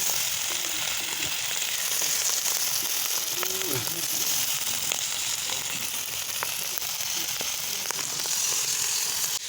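Red ant eggs fry in a pan with a steady, loud sizzle and scattered crackles throughout, a faint brief voice passing under the frying.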